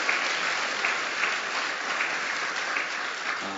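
A church congregation applauding during a New Year's Eve worship service, a dense, steady wash of clapping from many hands that holds at an even level throughout.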